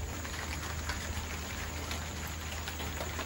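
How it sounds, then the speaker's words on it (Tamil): Rain falls outdoors in a steady, dense hiss of drops on surfaces, constant and fairly soft throughout, with no voices. "மழை தோறுது."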